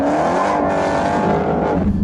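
A 2015 Dodge Charger Hellcat accelerates at full throttle, its engine giving a loud, close, sustained roar that climbs steadily in pitch for about two seconds.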